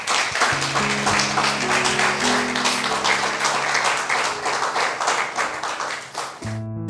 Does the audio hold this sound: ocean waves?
no